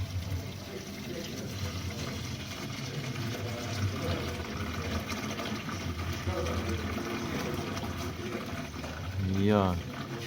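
Water drains steadily out of the oil pan of a BMW N52 engine from an E88 convertible, a continuous close splashing stream that runs the whole time while people talk nearby.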